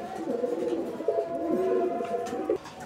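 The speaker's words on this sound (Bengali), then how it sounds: "এখানে আরও এক জোড়া কবুতরের কালেকশন রয়েছে আর এগুলো হচ্ছে চরেরা কবুতর স্প্যানিশ চরেরা কবুতরের একটি জোড়া" Spanish Charra pigeons coo in a soft, repeated, throaty rolling pattern at close range, several overlapping calls over a steady background hum.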